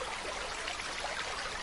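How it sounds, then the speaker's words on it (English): Running water of a mountain stream in Andorra, a steady broadband rush and trickle that stays even and close throughout, with no voices. "until only the sound of running water remains"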